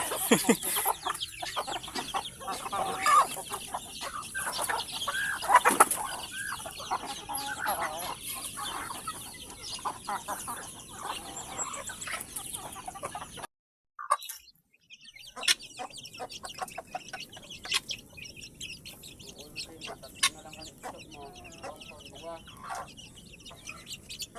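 Hens clucking and squawking in a barnyard, with bird chirps around them, a short pause midway, then more clucking and chatter.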